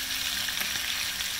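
Chicken pieces browning in a pot for coq au vin, a steady, dense sizzle of hot fat that holds evenly throughout without pauses, close by and fairly loud.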